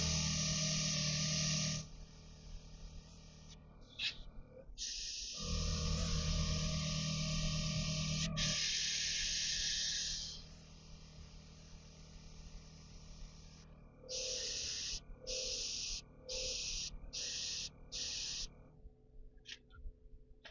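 An airbrush hisses as it sprays paint for railway modelling, first in long continuous bursts, then in a string of short, evenly spaced puffs as dots are applied, with quiet pauses between.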